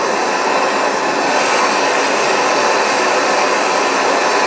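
A MAPP gas torch heats the heat shield bolts on a 2000 Ford 2.0L SOHC engine, giving a loud, steady, unbroken roar of hissing flame that holds at the same level throughout.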